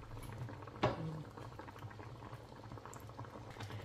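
Coconut milk simmering for ginataang monggo with eggplant and okra added, a steady soft bubbling and pattering with one brief splash early on, faint and close, with no voices.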